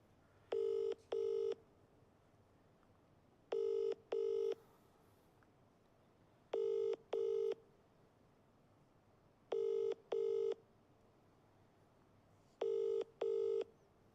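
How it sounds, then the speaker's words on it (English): Phone ringing on the line while a call waits to be answered: a clean double-pulse ring tone repeats five times about every three seconds, steady and fairly quiet, with faint background hiss between rings. "I've got your number right here. Please pick up."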